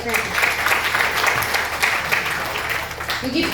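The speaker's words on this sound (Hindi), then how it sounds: "जोरदार तालियां धमाकेदार तालियां के लिए" An audience breaks into loud, sustained applause at a company stage event honouring top ranks, with dense, continuous clapping throughout and a voice carrying over it.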